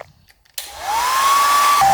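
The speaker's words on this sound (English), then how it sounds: "Good thing I keep an extra leaf blower in my construction vest." A leaf blower roars on abruptly after a near-silent moment, blasting steadily at close range onto a cake to make the icing drip, with a rising whine that settles into a sustained high tone.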